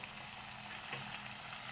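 Onion, tomato and green chili fry in a pan, giving a soft, steady sizzle that stays faint and even throughout with no voices.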